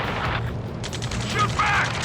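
Rapid gunfire crackles in bursts during a rescue mission in the video game Ace Combat 7, mixed with urgent radio voices talking over the shooting.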